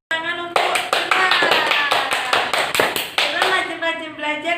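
A classroom of students claps for a classmate, a burst of distinct, sharp hand claps in a quick, slightly uneven rhythm, close and fairly loud, with voices mixed in beneath the clapping.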